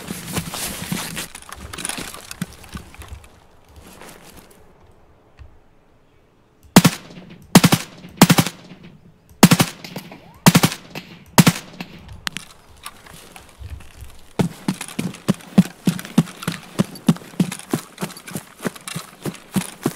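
Gunfire in Escape from Tarkov: a few loud separate shots, then steady rapid bursts of automatic fire close by, with quieter game sounds between them.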